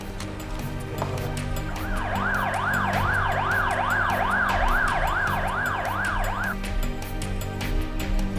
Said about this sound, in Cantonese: 救護車咧就去緊停機坪